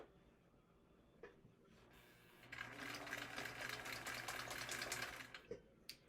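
A sewing machine stitches around a minimalist wallet, with a few quiet clicks and a short whir before a steady, rapid needle hum runs for about three seconds and then stops, close and alone.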